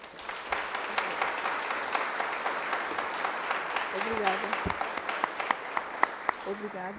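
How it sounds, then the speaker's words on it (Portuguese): An audience at an evening talk on African cultures and Adinkra symbols breaks into steady applause, many hands clapping together at moderate distance, with a voice briefly speaking over it. "uma salva de palmas, por favor"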